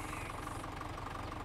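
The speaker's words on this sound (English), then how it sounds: "Before I start, let this tractor warm up a little bit." A tractor engine in Farming Simulator 17 idles while warming up, a steady low rumble with a faint knocking pulse, quiet and unchanging with no talk.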